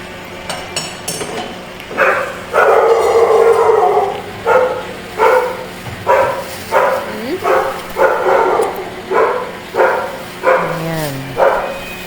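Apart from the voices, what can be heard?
dogs barking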